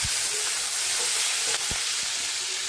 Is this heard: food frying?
yes